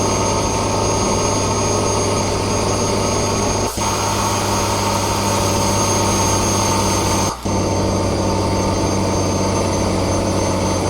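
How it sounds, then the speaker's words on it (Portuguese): A Volvo truck with a 540-horsepower engine runs steadily, a loud continuous drone with a strong low hum and broad mechanical noise, briefly dipping twice with no talk over it. "É o motor de 540 cavalos."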